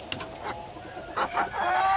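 Barred Rock chickens on a small farm give soft, brief clucks, a few close calls over a faint outdoor background with no talk.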